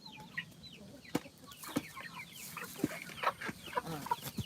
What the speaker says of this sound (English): Do y'all see these chickens?